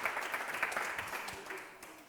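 Applause ripples through a small audience at an Italian evening event, light and somewhat distant, fading gradually toward the end.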